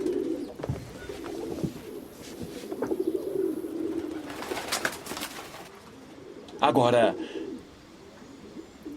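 Pigeons coo in soft repeated throaty calls, with a brief flutter of wings, heard under a voice speaking Portuguese, moderately close amid other background noise.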